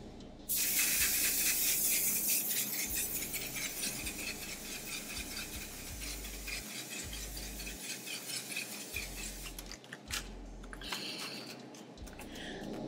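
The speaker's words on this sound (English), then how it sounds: "Now we can spray with the one size spray" A long hissing burst of makeup setting spray comes out loudly, then continues as fainter intermittent spritzes with low background hum.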